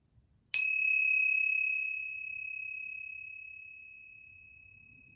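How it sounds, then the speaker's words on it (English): A single cymbal strike rings out clearly in a quiet room during a mind jar meditation, its bright metallic tone sustaining and slowly fading over several seconds, with faint low rumble beneath. "focusing your mind on just the sound of the cymbals"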